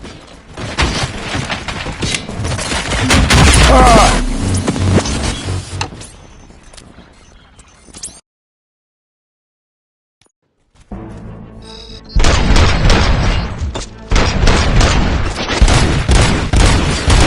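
Loud, dense bursts of gunfire ring out during a prison riot in the video game RoboCop: Rogue City, with rapid volleys that stop for a few seconds of silence before heavy shooting resumes.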